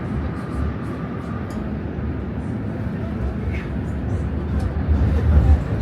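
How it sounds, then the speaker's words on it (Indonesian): Steady low rumble of a tram riding through Prague's old town at Christmastime, a continuous rolling drone with faint rattles that swells slightly toward the end, heard from inside the car. "kita udah naik kereta, naik tram."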